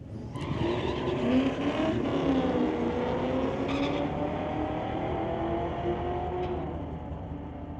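A 1993 Mustang with an LS swap and a 1967 El Camino drag race side by side on a strip, their engines roaring loudly with rising, overlapping pitches and a faint tire squeal before fading slightly toward the end.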